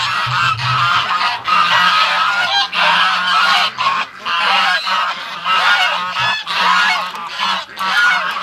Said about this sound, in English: Poor ducks have been locked up all day, but we're going to let them out here